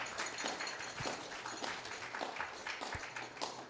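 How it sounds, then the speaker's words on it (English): Scattered applause from a gathering at a temple, fairly faint and loose, with uneven individual claps rising and falling over a few seconds. "Please give them a big round of applause."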